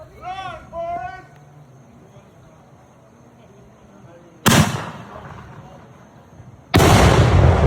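A 6 inch Snowball firework salute bursts with a very loud, sharp blast, followed a couple of seconds later by a second loud report that fills the end. Voices are heard briefly before the blasts.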